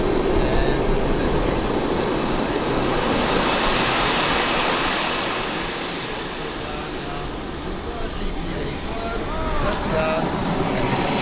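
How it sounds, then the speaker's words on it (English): A jet aircraft at an air show slows to a low airspeed, its steady roaring whine filling the air with a gently shifting pitch, loud and continuous, while a commentator talks over it. "He'll slow the jet down, and he will slow it down now to an airspeed of 90 kilometers an hour."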